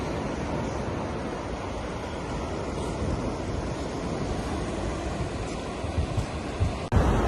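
Sea waves on a calm beach at Vedaranyam, a steady broad wash of surf mixed with wind noise that continues unbroken, with no voices.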